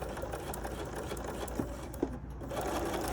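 A sewing machine stitching around the edge of a quilt runs in a steady, close mechanical whir for a few seconds, with a couple of soft clicks near the end.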